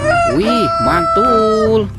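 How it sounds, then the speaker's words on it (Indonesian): A rooster crows loudly and close by in one drawn-out call, with a person briefly exclaiming over it. "Ada ayam berkokok"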